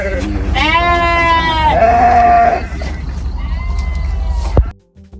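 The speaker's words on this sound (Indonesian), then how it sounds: "Ini dombanya juga ada domba merino, ada domba Texel, ada Harper, ada domba Harper." Merino and Texel sheep bleating on a farm, a long loud wavering bleat up close followed by fainter calls, with a steady low background rumble.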